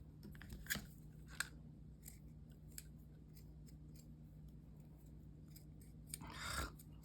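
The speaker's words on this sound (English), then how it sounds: "Scissors, come on, we can do this." Scissors snip through cheesecloth in a few sharp, quiet cuts spaced irregularly, close by, with a brief rustle of fabric near the end.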